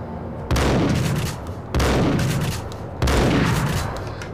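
Three loud gunshot blasts from the Max Payne video game, spaced about a second and a quarter apart, each with a long booming decay that fills the gaps.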